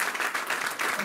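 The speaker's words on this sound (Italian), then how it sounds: "l'applauso caloroso è stabilito in maniera naturale" Warm applause from an audience greeting a guest at a car presentation, steady dense clapping that swells and dips slightly across a short stretch, with no voices over it.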